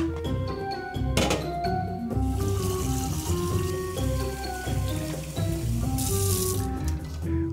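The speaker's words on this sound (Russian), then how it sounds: "ставим кастрюльку под струю холодной воды" Cold tap water runs steadily into a saucepan of freshly boiled eggs in a kitchen, a continuous close splashing stream with a couple of hollow knocks against the pot.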